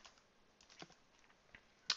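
Soft, sparse keyboard taps as text is typed into a Google Slides text box, quiet clicks scattered irregularly with one sharper keystroke at the end.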